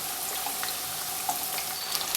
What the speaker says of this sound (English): Now continue pan frying the fritters until they're a deep golden color on the other side.